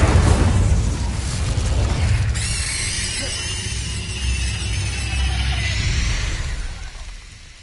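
A fire spell blast in a video game: a loud, roaring burst of flame that rumbles on for several seconds before trailing off near the end.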